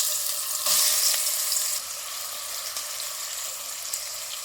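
Marinated prawns hit hot oil with a loud, steady sizzle that swells briefly as they drop in, then settles into a constant crackling fry with a few faint clinks, no voices.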